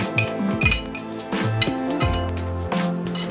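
Vegetables tipped into a cooking pan with clinks and clatters of a utensil against metal, a few quick knocks in a short burst with no speech.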